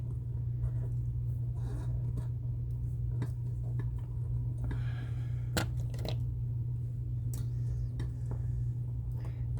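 A zip tie is pulled tight, its ratchet giving scattered short zipping clicks and scratchy bursts over a constant low hum, with no talking.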